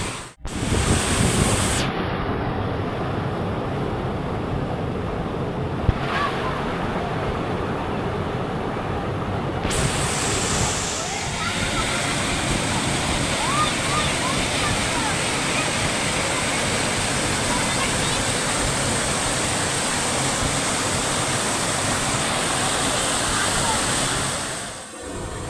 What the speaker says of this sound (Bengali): আমরা যত উঁচুতে উঠছি জলের দেখুন গতিবেগটা কিন্তু আস্তে আস্তে বেড়ে যাচ্ছে